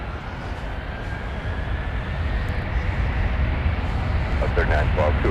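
A Delta heavy jet takes off from runway 12 right at MSP airport, a broad roar that builds steadily over a few seconds, with a faint radio voice and talk underneath.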